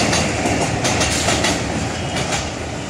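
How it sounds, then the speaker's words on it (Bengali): A metro train running past on the line, a loud, close roar with rhythmic clickety-clack of wheels over rail joints throughout, fading slightly at the end. "এই যে মেট্রো চলছে, দেখতেই পাচ্ছ মেট্রো।"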